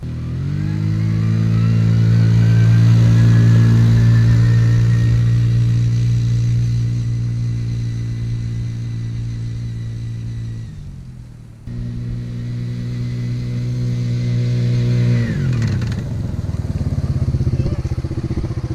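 A Kymco 90 quad ATV engine revs hard and holds a loud, buzzing drone as it runs up toward top speed. It briefly drops off, then climbs again.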